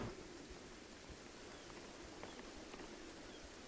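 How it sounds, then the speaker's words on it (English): Steady rain hisses softly and continuously in the video game Beyond Eyes, with scattered droplet ticks and a faint low rumble underneath. "The rain's getting heavier."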